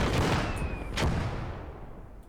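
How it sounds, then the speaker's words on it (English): Artillery cannon fire in the video game Call To Arms: Gates of Hell: a heavy blast rumbles loud and close, followed by a second sharp crack and a long booming decay. "They've got another bloody artillery cannon"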